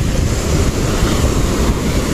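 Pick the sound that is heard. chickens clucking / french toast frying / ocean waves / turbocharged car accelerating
ocean waves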